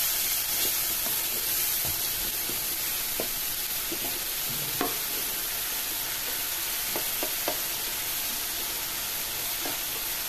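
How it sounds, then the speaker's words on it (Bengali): Spice paste and its water being stir-fried in a pan for Bengali dhokar dalna, a steady sizzle with scattered scraping and stirring knocks throughout, close and alone. "ভালো করে কষাচ্ছি।"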